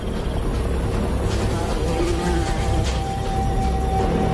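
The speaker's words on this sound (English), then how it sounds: "It's a Pakistani drone." A Pakistani drone flies in the sky before dawn, a thin continuous buzzing whine that holds steady over low background rumble.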